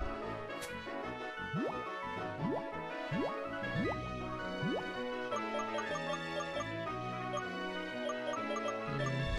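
Chiptune-style water effects play in the Pokemon Black 2 video game, a series of quick rising bloop and drip tones repeating over a layered game music background, no talking.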